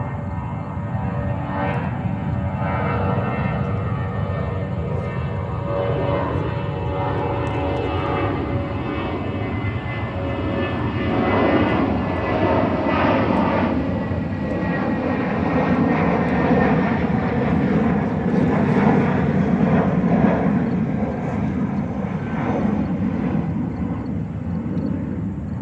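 A JetBlue airliner in special Brooklyn Nets livery roars down the runway on takeoff at JFK, a loud, steady broadband jet engine rumble that swells slightly toward the end, with no talking.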